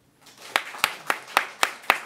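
Clapping at a church gathering, six crisp, evenly spaced claps following a short pause, close and distinct against a quiet room.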